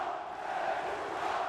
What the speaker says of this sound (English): That's the first time we've heard these Greek fans cheer for anyone else except for Hellas.